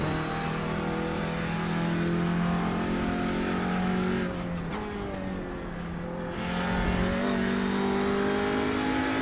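Race car engine in the iRacing sim, Audi or Porsche, a loud sustained whine holding steady, dipping briefly as it shifts, then climbing again as the car accelerates.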